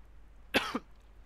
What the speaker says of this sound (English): I have a cough, so I might die because I'm coughing.